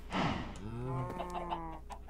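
A chicken clucks in a survival crafting video game, a single short, close bout of clucking alone with no talk.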